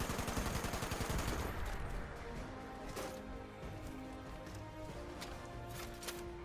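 Gunfire in a roleplay video game, a rapid burst of automatic shots in the first two seconds followed by scattered fainter shots over a busy background of movement and hoofbeats.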